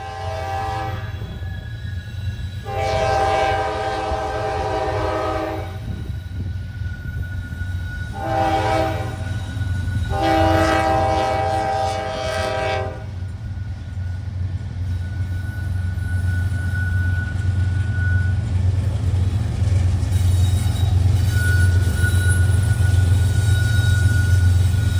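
Norfolk Southern freight train NS50G rolls past coming off the Frankfort Line, a steady low rumble of engines and cars running throughout while the horn sounds in several long blasts, then fades as the wheels keep grinding along.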